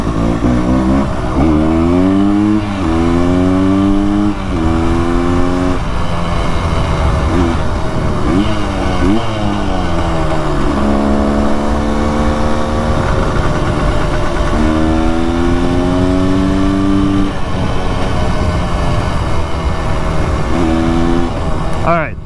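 A 400cc two-stroke motorcycle engine revs hard on a test ride, loud and close, with a buzzing, rising and falling pitch through repeated throttle pulls and gear changes for over twenty seconds.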